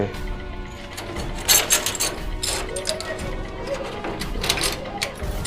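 A lock mechanism is engaged with a series of metallic ratcheting clicks and clanks, close and fairly loud, coming in quick irregular bursts over a grinding background.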